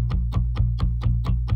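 Three layered bass sounds stacked together in a produced track, giving a deep, distorted low end pulsing in a steady rhythm of about seven even hits, loud and alone.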